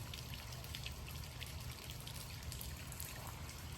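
Rain falls outdoors at night in a steady, dense patter of drops, with soft trickling water underneath, quiet and continuous with no voices.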